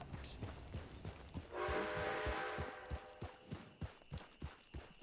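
A train rolls through a Fortnite match, with a swelling rumble and hiss rising midway, set against a steady rhythm of clacking thumps and small beeping tones.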